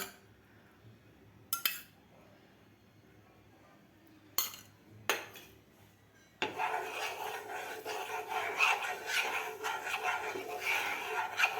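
Oil being spread across a hot pan while making aloo paratha, heard as a few brief clinks and scrapes followed by a steady, close rasping rub against the metal surface that continues to the end.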